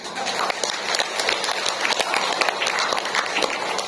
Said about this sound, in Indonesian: Kalau mau kasih tepuk tangan dulu.